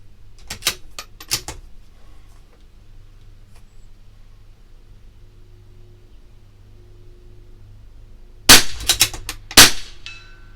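A CZ 457 LRP rifle fires two quick pairs of shots at long range outdoors: sharp, loud cracks, one double tap near the start and another near the end, separated by quiet wind and low background hum.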